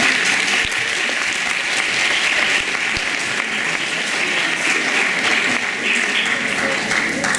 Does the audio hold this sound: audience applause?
yes